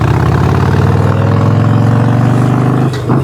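A Harley-Davidson Sportster's V-twin engine runs loud and close with a deep, lumpy, pulsing rumble, holding steady before dipping briefly near the end.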